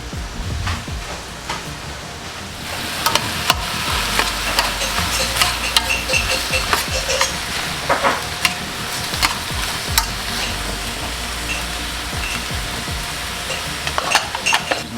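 Sausages fry in olive oil in a pan, a steady close sizzle broken by frequent clicks and scrapes of stirring, with no talk throughout.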